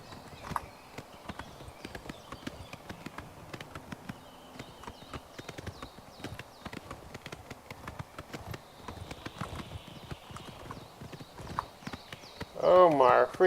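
Steady clip-clop of horse hooves in a quick rhythm runs throughout in Oblivion Remastered, with speech over it and a louder burst near the end.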